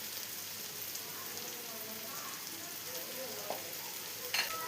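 Chicken roast with tomato and onion frying in a pan, a soft continuous sizzle and crackle with occasional stirring clinks, faint and close.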